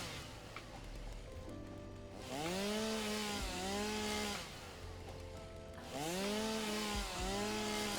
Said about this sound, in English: Might be because of the chainsaw.